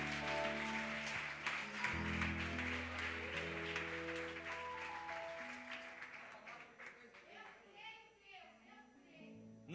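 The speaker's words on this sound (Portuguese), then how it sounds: "Pode aplaudir a Jesus aí" A church congregation applauds during a sermon, scattered clapping mixed with sustained musical tones and voices that fade out toward the end.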